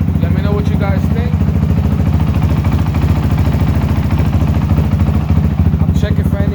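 A 2022 Honda CRF450RL motorcycle fitted with an FMF exhaust idles close by with a steady, rapid thumping pulse, while someone talks briefly over the engine.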